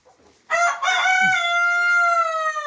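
A rooster gives one loud, close crow in a chicken coop, a rough opening burst that breaks into a long sustained call held to the end of the clip.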